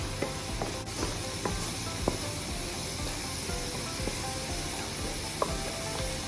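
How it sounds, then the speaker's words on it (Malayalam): Squid roast sizzling steadily in a pan while masala is stirred in, a constant frying hiss broken by scattered scrapes and taps of a spoon, close and without speech. "അപ്പോൾ ഇനി നമ്മൾ നേരത്തെ റെഡിയാക്കി വെച്ച മസാല അതിലേക്ക് ഇട്ട് കൊടുത്തിട്ട് മിക്സ് ചെയ്യാം"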